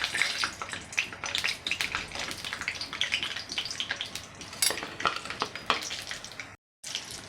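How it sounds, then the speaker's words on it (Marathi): Peanuts fry in hot oil in a pan for a Khandeshi eggplant bharit, a steady crackling sizzle with brief louder spatters, moderately close, cut off abruptly near the end. "यात आपण सर्वात पहिले शेंगदाणे छान तळून घ्यायचे आहे"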